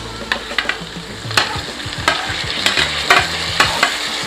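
Garlic frying in a pan for a Vanjaram fish curry, a steady close sizzle broken by repeated clanks and scrapes of a spoon stirring against the pan, with no voices.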